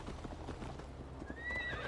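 Hoofbeats of a galloping horse in Assassin's Creed Valhalla beat in a steady rhythm throughout, with a loud whinny rising near the end, all close and clear with no talk.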